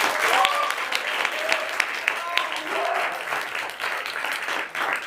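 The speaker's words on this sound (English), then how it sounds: "One more big round of applause for Will" Audience applause after a speech at an NGA speech event, steady clapping from a room of people, sustained and fairly loud, with a few cheers mixed in and no talking over it.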